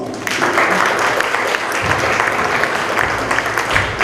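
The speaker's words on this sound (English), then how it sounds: "let's welcome Maharaj with a nice round of applause" Audience at a temple program applauding to welcome a swami to speak, a steady, dense round of clapping from a sizable crowd, held at even loudness for the whole stretch.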